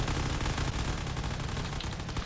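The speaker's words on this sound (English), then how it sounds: "There's a lot of cannon fire coming from the Federation." Dense, continuous cannon fire and gunfire from a Federation fleet roar through a space battle in a drone-combat video game, a rapid, unbroken rattle of shots at steady loudness with no pauses.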